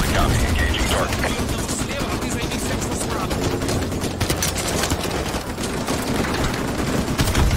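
Heavy gunfire from the shooter game Modern Warfare 2 Remastered as a sentry gun is attacked, a dense, continuous rattle of automatic shots and mechanical clatter that stays loud and steady throughout, with voices partly buried in the din.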